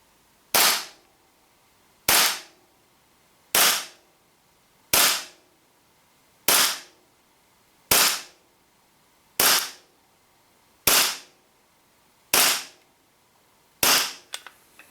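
A WE G18c green gas blowback airsoft pistol shoots 0.2 gram BBs over a chronograph, ten sharp, loud cracks spaced evenly about a second and a half apart, each cut off quickly, followed by a faint clatter at the end.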